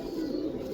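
Large pigeons kept in boxes give a short, low coo close by against steady background noise, with no talk.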